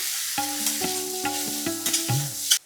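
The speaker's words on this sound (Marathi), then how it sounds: "यामध्ये घालूया पाव चमचा हळद, चवीपुरतं मीठ. याला मिसळून घेऊया" Tomato being stirred and sautéed in a pan with turmeric and salt: repeated spoon scrapes and clinks over a steady sizzle, close and fairly loud, with no talking.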